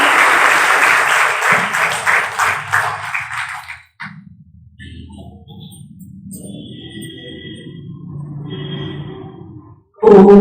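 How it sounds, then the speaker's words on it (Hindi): An audience claps rhythmically to welcome Asha Didi on stage at an International Women's Day programme, loud at first, then giving way to quieter tones and low background sounds before a sudden loud burst at the end. "जोरदार तालियों से दीदी का स्वागत करेंगे"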